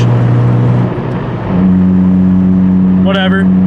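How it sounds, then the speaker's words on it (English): A Honda Fit's engine runs through a loud aftermarket exhaust, holding a strong low drone that dips briefly and then returns steady and heavy, with a short burst of talk near the end. "my exhaust is too loud, so I really can't hear much of a difference"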